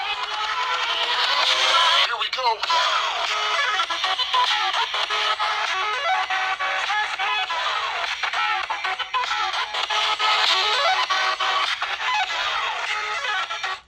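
An Oukitel K6000 Plus smartphone's built-in speaker plays audio at full volume, a thin, tinny sound lacking bass that runs loud and continuous throughout.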